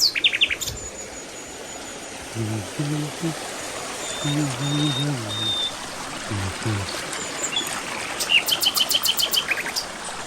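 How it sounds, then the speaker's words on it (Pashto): A small forest stream in Lower Dir flows with a steady, hissing rush of water, with birds chirping over it and someone talking intermittently. "په دې خوړګۍ کې اوس دا اوبه ګورئ ښه"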